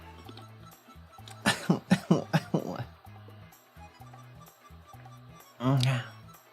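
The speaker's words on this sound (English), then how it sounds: "I got a cough." A run of several sharp coughs close to the mic, followed a few seconds later by one more cough or throat-clearing over a quiet background.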